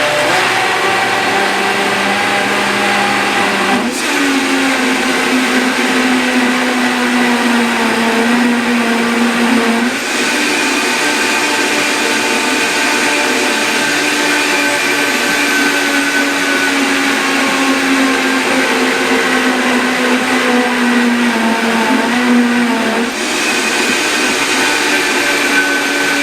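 A countertop blender whirs loudly and steadily for about 26 seconds while blending carob walnut brownie batter, with its motor pitch dipping briefly a few times as the thick mixture catches.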